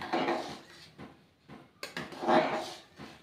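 Boiled rice with a bay leaf is stirred in a pot, producing a few soft scraping and clinking knocks of a utensil against the pot, quiet and close, in irregular bursts with short pauses.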